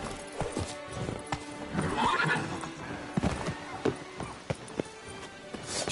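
A horse whinnies amid rhythmic clip-clopping hooves and scattered thuds, close and fairly loud over a busy background.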